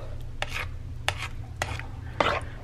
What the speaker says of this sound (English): my sausage and onions are all nice and cooked through, so I am adding those to my egg mixture. I am going to mix these up together.